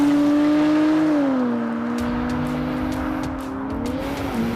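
A 2025 Nissan Z NISMO sports car accelerates hard, its engine note climbing, dropping at a gear change, then rising again, loud and close from inside or near the car.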